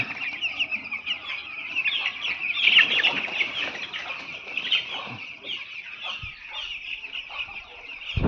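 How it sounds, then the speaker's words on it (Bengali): A shed holds a thousand ten-day-old chicks, and their dense chorus of shrill peeps and clucks carries on continuously at a moderate level with a few soft thumps. "এখন মুরগি আবার ওঠানো হয়েছে 1000 মুরগি"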